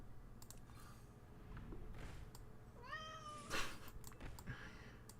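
A pet cat meows once, a rising and falling tonal call at moderate distance, heard over quiet room noise and faint background game sounds.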